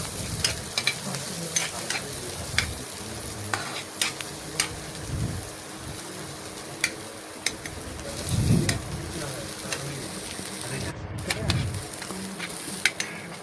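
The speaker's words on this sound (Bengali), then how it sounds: "এই দেখুন রসুনটা নাড়াচাড়া করে একটু ভেজে নিয়ে আমি দিয়ে দেব কিছুটা পেঁয়াজ কুচি।" Garlic and chopped onion sizzle in hot oil while a spoon stirs them, with a constant frying hiss and sharp scrapes and knocks against the pan at irregular intervals.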